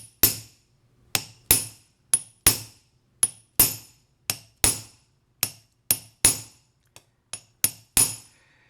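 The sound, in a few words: hammer striking a tool into copper on plasticine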